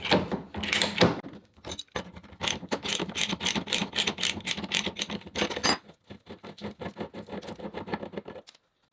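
A threading die is ratcheted around a metal pipe in quick, repeated metallic clicks with short pauses between strokes, close by and fairly quiet.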